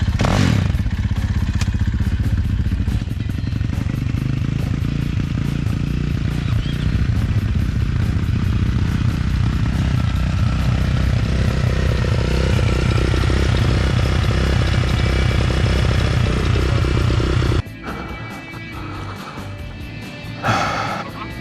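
A CFMoto 450MT trail motorcycle warming up, its engine running loud and steady nearby for most of the time before dropping to a quieter idle with faint voices at the end.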